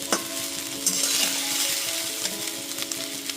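Cooked rice is tossed and mixed in a hot pan for fried rice, a continuous close sizzle with a sharp knock at the start and scattered scraping strokes, with no voices.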